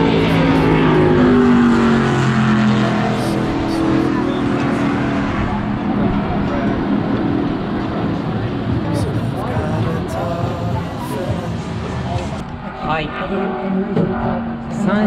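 Race car engine noise near a circuit after three laps of a ride-along experience, a loud steady roar with passing and revving under people talking.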